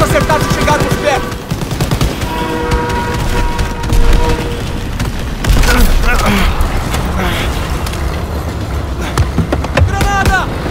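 Machine gun fire rattles without a break in Call of Duty WWII during a loud battle, with booms and explosions mixed in and shouting voices over the top.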